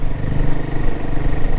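Motorcycle riding on a road between Athirapally and Munnar, its engine running as a steady loud close rumble with no talk.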